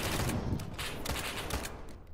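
Rapid gunfire in the video game SCP 5K, a dense fusillade of loud close shots fired in quick succession, filling the short burst with no talk.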